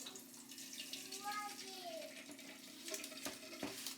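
Liquid from a pan tipped into an empty tomato can, a short wet pour with a small splash, clattering faintly over a steady kitchen hum.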